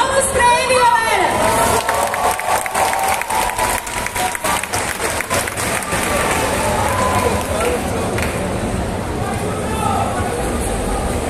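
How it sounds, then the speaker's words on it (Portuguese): At a cosplay contest at CCXP 2022, an audience breaks into loud sustained clapping and cheering for a Dandelion cosplayer from The Witcher 3, with a hall's worth of claps and a few shouts, easing off toward the end. "Palmas pra ele, galera!"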